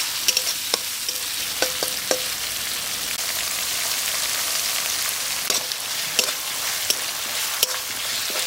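Ground coriander, cumin, dried chilli and black pepper paste frying in a pan for Bengali chital fish curry, a bright steady sizzle with repeated light utensil taps, no speech.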